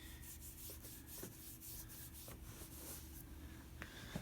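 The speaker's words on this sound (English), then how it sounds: "you just want to rub this in there" Mineral oil and baby oil being rubbed by hand into trim, a soft, faint, close-up rubbing and scuffing with light irregular taps and squeaks, quiet throughout.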